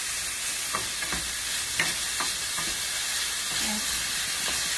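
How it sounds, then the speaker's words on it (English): Ginger and shallot sizzle in a hot pan under a steady hiss, with light, scattered scrapes and taps as they are stirred. No voices are heard. "And give it a stir."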